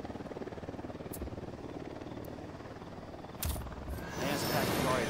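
Helicopter flying low in Ghost Recon Wildlands, a steady rotor drone throughout that swells louder near the end, with speech over it.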